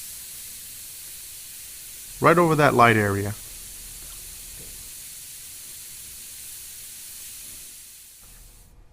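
An airbrush sprays yellow paint onto the nose of a killer klown figure. The spray makes a steady, faint hiss throughout, and someone briefly talks over it.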